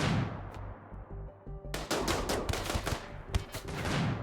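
Turrets firing in the space video game Starjacks: rapid bursts of automatic gunfire in fast repeating volleys, loud and close, with game sound effects and no talk.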